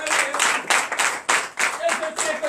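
Church congregation clapping during a night deliverance and prophecy service, a few uneven bursts of hands in quick rhythm, mixed with faint voices and a brief tone in the background.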